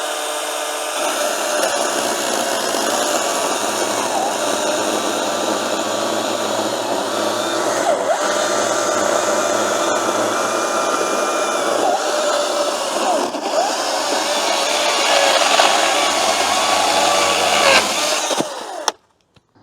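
EGO CSX5000 20-inch battery chainsaw running steadily at speed, a loud continuous electric motor whine with a constant tone for nearly twenty seconds before cutting off abruptly.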